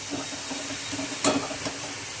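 Onion, tomato and garlic frying in oil for an ivy gourd (tondli) vegetable dish, a steady soft sizzle and hiss throughout with a brief louder crackle partway through.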